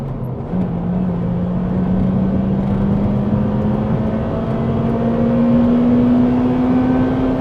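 A Honda Civic Type R EP3 engine, completely standard, revving steadily while driving, a loud continuous drone whose pitch climbs slowly and evenly through the revs with no voices.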